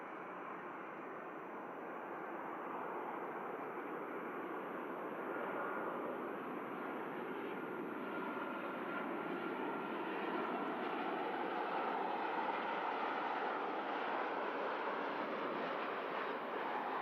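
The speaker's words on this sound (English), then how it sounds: "We have a Ryanair on short final now. Aircraft coming in from Seville." A Ryanair airliner inbound from Seville on short final to land at Manchester Airport, a broad, continuous jet roar that grows steadily louder and fuller as it approaches, heard outdoors without speech.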